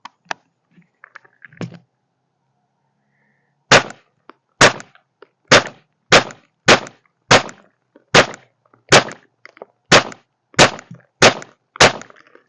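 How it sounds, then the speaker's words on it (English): A modern M1 Carbine fires at pumpkins: after a few scattered faint knocks and a pause, about a dozen sharp loud shots ring out in a steady, fairly even rhythm. "now it's just time to shoot some pumpkins"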